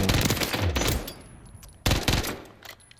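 A burst SMG fires continuously in Call of Duty: Modern Warfare III, giving two loud, rapid strings of shots close up. A short pause separates them and there is no talk.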